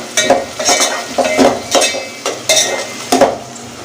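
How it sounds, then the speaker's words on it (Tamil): Tomatoes and salt being stirred in a pan over a low flame for a mutton and fresh broad-bean curry, a spoon scraping in steady strokes roughly every half second over a soft sizzle, loud and close. "உப்பு சேர்த்துட்டு இதை மிக்ஸ் பண்ணி விட்டுக்கலாம்"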